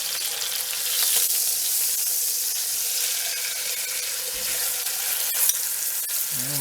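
Italian pot roast browning in hot oil in a pan, a steady dense sizzle and crackle running throughout with no talk, plus a brief soft clatter near the end.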